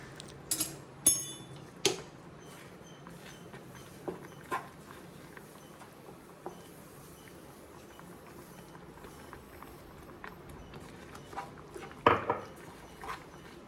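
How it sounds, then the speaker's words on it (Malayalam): Semolina being stirred into milk in a pan for Kerala-style milk upma gives scattered light clinks and scrapes of a spoon against the pan, faint and intermittent over a low background hum. "റവ ഇതിലേക്കിട്ട് നന്നായിട്ട് ഇളക്കി കൊടുക്കണം."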